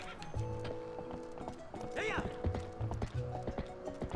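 Horse hooves clip-clop at a steady trotting rhythm in Zelda: Twilight Princess, mixed with game music and a brief whinny, while a person talks over the game.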